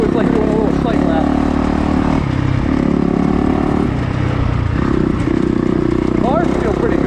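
A motocross motorcycle rides a sighting lap at Jacksons Pumpkin Farm MX track, its loud, close engine droning and stepping up and down in pitch through throttle changes, with a voice talking over it.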